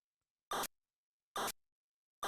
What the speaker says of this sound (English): Ever wonder what your key fob sounds like to a car?